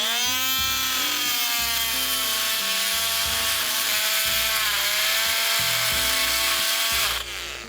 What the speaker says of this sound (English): So I'm going to cut another one of these right now.